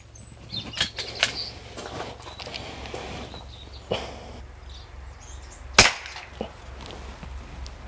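A Stoeger XM1 air rifle plinking at toys: scattered sharp cracks and ticks, one louder shot and impact near the middle, over quiet outdoor background with faint bird chirps, spaced irregularly and no talking.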